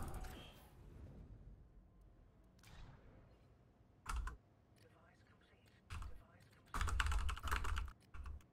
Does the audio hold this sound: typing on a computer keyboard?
yes